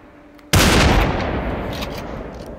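Gunfire in the VR shooter Population: One, a sudden loud blast that rings out and decays slowly across open terrain, close by.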